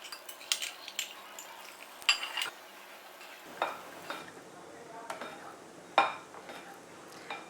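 Spoon scraping and clinking against a bowl in uneven strokes while mixing eggless chocolate cake batter, with soft wet mixing sounds between the knocks, fairly close.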